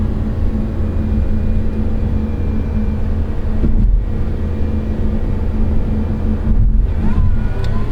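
A 2023 Lotus Emira sport car's engine drones loudly and steadily under acceleration, with two brief dips where gear shifts break the sustained rumble.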